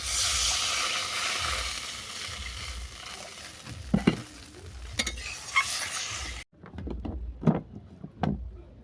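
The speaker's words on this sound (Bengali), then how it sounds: "ভালো করে মশলাটা কষিয়ে নেওয়ার পর দিলাম পরিমাণ মতো জল" Water poured into a spice paste frying in a pan, starting with a loud hiss that fades to a softer sizzle, broken by a few distinct scrapes of stirring.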